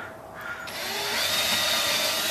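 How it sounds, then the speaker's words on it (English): A power drill pre-drilling holes, its whine rising and holding at a steady high pitch, close and loud with no talk. "He's pre-drilling."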